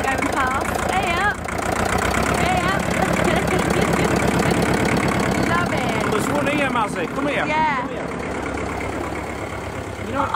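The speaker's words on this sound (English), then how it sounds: "We've got an old Ford tractor going past." An old Ford tractor at a steam rally rumbles steadily close by as it drives past, its engine running continuously under a busy crowd with people chatting throughout.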